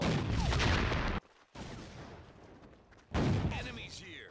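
Dense battlefield gunfire and explosions in the Cold War Conflicts real-time strategy game, loud in two bursts separated by a quieter stretch, with spoken voices mixed in.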